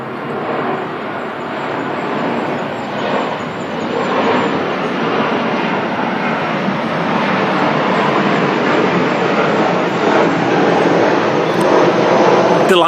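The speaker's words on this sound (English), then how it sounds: "Here comes one of those planes to interrupt us." A fixed-wing airplane passes overhead in Knutsford, England, a loud, steady broadband engine roar that builds gradually across the whole stretch and drowns out everything else.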